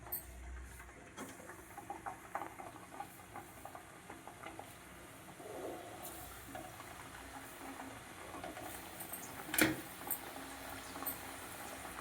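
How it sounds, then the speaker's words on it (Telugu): Jaggery and flour date-shaped snacks frying in oil make a faint, soft bubbling crackle with scattered small pops and clicks, one sharper tap toward the end, quiet and without talk. "ఇప్పుడు నేను ఆయిల్లో డిప్ చేస్తాను"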